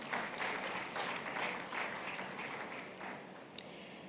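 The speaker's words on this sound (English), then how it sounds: "A round of applause for them again." Quiet, fairly distant clapping from a conference audience thanking a panel at the Africa Prosperity Dialogues, a soft rippling patter that thins and fades toward the end, with one sharp isolated clap near the close.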